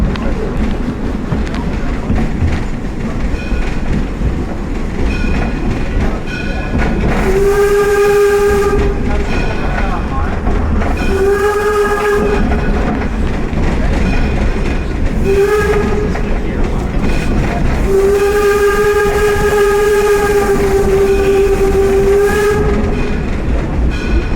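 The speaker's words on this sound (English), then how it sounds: "enjoy some of the sounds that come from a historic steam locomotive." Historic steam locomotive D&LN No. 7 rumbling and chugging steadily at Greenfield Village, with several loud whistle blasts of varying length, the last one long and drawn out.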